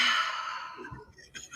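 A deep breath is exhaled, a long, breathy sigh that fades out over about a second, followed by faint breathing sounds.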